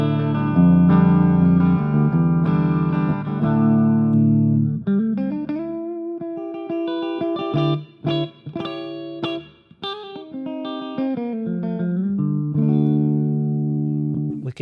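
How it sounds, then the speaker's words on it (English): A Gibson Les Paul Standard guitar plays a clean tone through a Mooer SD30i amp, sustained chords followed by rhythmic plucked notes and short riffs, with a touch of chorus and reverb, loud and alone. "I'm using my Gibson Les Paul standard guitar. So let's start with a clean"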